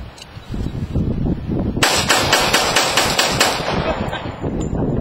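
A Kimber Rapid pistol fires outdoors in a fast burst of about eight loud, close, sharply cracking shots in quick succession, with a quieter background hum before and after.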